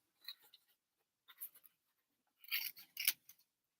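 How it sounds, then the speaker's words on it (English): Scissors trimming around a printed paper cutout of a country house scene, heard as a few short quiet bursts of crisp snipping with pauses between them. "So just trim around this one as well."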